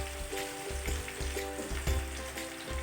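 Chicken drumsticks coated in flour, semolina and gram flour fry in hot oil over full heat, giving a close, even sizzle with a soft bubbling crackle throughout and a faint low hum underneath.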